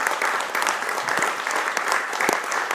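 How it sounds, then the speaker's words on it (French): An audience applauds at an opening session of a French council meeting, a dense, steady clatter of many hands clapping close by for a few seconds without pause. "Oui, je pense qu'on peut l'applaudir, mais bon."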